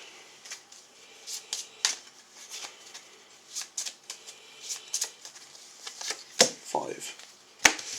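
Playing cards being shuffled during a family game of the cooperative word-building card game Paperback, heard as scattered crisp riffling bursts and card snaps at close range, with quiet gaps between them.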